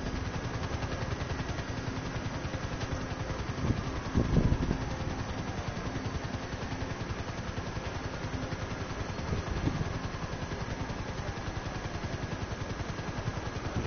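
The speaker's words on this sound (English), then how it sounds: "The engine's kind of crapping out on me." A failing car engine idling in GTA 5 Online, a steady low rumbling drone with rough, uneven pulses and a couple of louder sputtering bursts, heard alone without talk.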